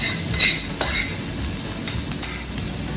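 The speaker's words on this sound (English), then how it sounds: "Pan में आप 2-3 drop olive oil डालिए, और ज़्यादा नहीं. उसके अंदर सारे वेजीज डाल दीजिए." Diced green, red and yellow capsicum sizzles steadily in a little olive oil in a pan, with intermittent scraping and clinks of a utensil as it is stirred, loud and close with no talking.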